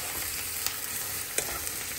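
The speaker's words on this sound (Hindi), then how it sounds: "इतना हमारी प्याज भुन रही है फटाफट से" Chopped onions fry in a pan, giving a continuous close sizzle with a few faint taps and scrapes from stirring.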